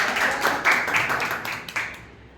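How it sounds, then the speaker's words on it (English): An audience at a Toastmasters club meeting gives a short burst of applause that starts fairly close, then thins and fades into a few scattered claps. "Can we all get a big round of applause?"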